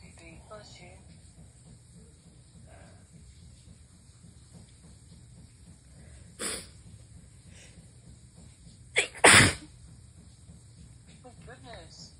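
Forceful human sneezes in a quiet room: one short sneeze, then a hard double sneeze a few seconds later, each loud and isolated against faint background.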